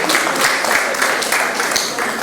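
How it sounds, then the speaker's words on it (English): Brief, dense applause at a ministerial briefing for a commerce and industry ministry, steady clapping with a few sharper individual claps standing out. "I can hear the applause"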